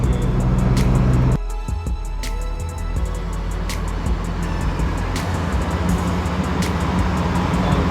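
Steady engine rumble and road noise from inside a moving car, loud and continuous, with a brief drop in level near the start and no talk.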